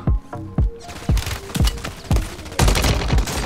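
Holger 556 assault rifle firing in Call of Duty Warzone, a rapid series of sharp, loud gunshots in quick bursts across the whole stretch, with no talking.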